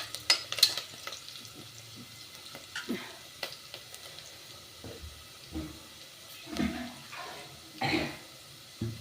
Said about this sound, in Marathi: आपण पाणी टाकणार आहोत।